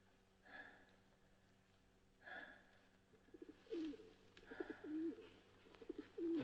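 A pigeon coos softly in a quiet setting, several low, throaty coos repeating at intervals, with faint muffled voices and light background sounds in between.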